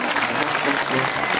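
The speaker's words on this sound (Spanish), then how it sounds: "Regálenme un aplauso fuerte a nuestro santo patrono San Juditas." A crowd applauds steadily and loudly at a jaripeo rodeo event in Urapicho, Michoacán, a dense wash of clapping that fills the whole moment.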